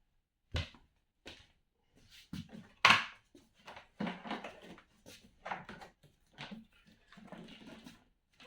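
Scattered plastic clicks, knocks and clatters as a Numatic CT-470 washing vacuum cleaner is taken apart, separate sharp handling sounds spaced across quiet gaps.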